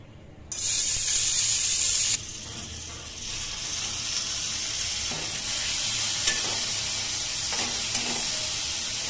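Radish and dried lotka fish (shutki) cooking in a pan, a loud hiss and sizzle that bursts in abruptly, then settles into steady frying with occasional stirring scrapes and clinks close by.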